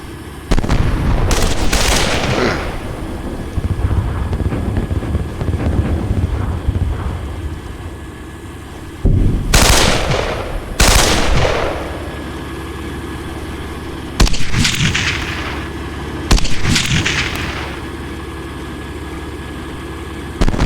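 Heavy gunfire and loud blasts in a Steel Beasts Pro tank battle set in northeastern Ukraine, several sharp bursts spaced apart over a constant engine rumble, close and loud.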